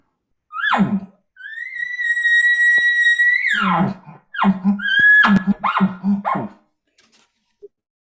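A vocal imitation of an elk roundup bugle: a short bark, a long rising whistled whine, then a few quick chuckling grunts, close and loud.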